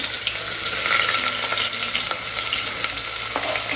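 Shallots, a little onion and green chillies sautéing in a pan, a steady close sizzle with light stirring scrapes and small crackles throughout.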